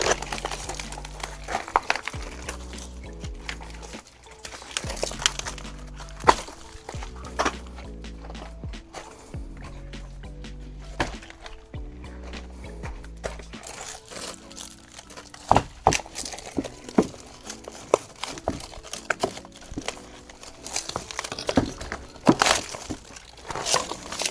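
Worn-out wooden shed stairs being ripped up, with repeated cracking, creaking and scraping bursts of wood and nails over a long stretch, close and uneven, with no talk.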